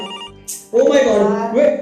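A telephone rings with a steady tonal bell pattern, loud and close, over a short burst of hiss, while voices speak alongside it.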